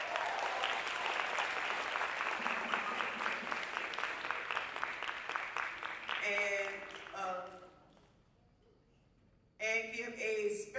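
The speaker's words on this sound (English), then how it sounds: "give them a round of applause." Applause from an audience at a school band holiday concert, a dense steady clapping that runs for about six seconds, then breaks into short bursts with gaps as a voice speaks over a quieter stretch.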